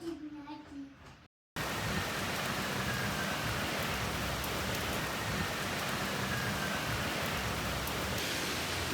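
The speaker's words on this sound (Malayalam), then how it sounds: "രാവിലെ നല്ല മഴയാണ്." Heavy morning rain pours steadily after a short stretch of quieter sound with a voice, a dense, even hiss that stays loud and close for the rest of the clip.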